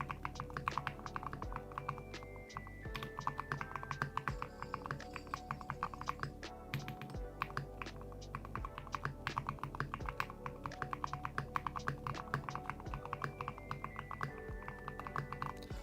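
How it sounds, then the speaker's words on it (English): Steady typing on a computer keyboard, a dense run of quick key clicks and thunks that keeps going without a break. Each press sounds close and crisp, and no one speaks. "it's time to type"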